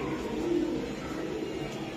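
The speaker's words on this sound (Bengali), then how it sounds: "নর কবুতর, এটাও রেস করা কবুতর ভাই।" A male racing pigeon coos, a low, soft, rolling call sounding close over a steady background hum of its loft, with no voices.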